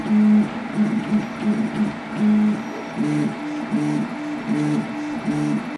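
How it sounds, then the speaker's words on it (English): An eight-year-old i3-style 3D printer runs alone, its stepper motors giving a close, steady series of whirring, buzzing tones that pulse in short repeating bursts. "we're going to be taking this 8-year-old i3 3D printer and upcycling it to print from this."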